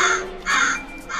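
Crows cawing as a sound effect in a narrated horror story, three harsh caws in quick succession, fairly close and alone without speech.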